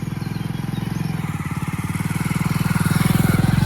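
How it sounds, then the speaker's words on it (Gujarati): A motorcycle engine labors with a steady, pulsing chug on a muddy pilgrimage route softened by rain, close and fairly loud, the throb building slightly toward the end with no voices over it. "તમે જોઈ શકો છો કઈ રીતે બાઇક સ્લીપ થતું આવે"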